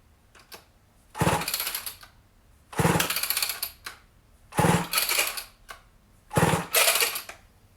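A Homelite XL12 chainsaw being pull-started without choke or fast idle gives four evenly spaced bursts of rattling, cranking, sputtering noise, with no sustained running in between.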